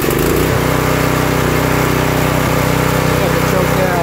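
An Earthquake Victory rear tine tiller engine runs steadily and loudly close by, a constant small-engine drone with an even pulsing rhythm from start to finish.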